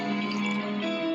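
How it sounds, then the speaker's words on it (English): Milk pours in a steady, continuous stream for about a second, a faint liquid trickle heard alone. "A pouring sound of a milk."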